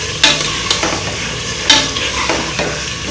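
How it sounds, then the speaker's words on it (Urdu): Chicken frying with onion, ginger and garlic in a pan, a steady close sizzle broken by several sharp scraping stirs, with no voices. "لہسن کو چکن کے ساتھ فرائی کریں گے،"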